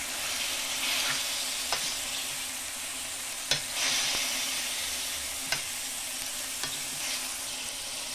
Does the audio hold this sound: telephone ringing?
no